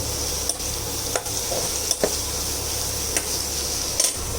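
Onions sauté in a pan of hot oil with a constant close sizzle, broken about every second by sharp spatula taps and scrapes against the pan.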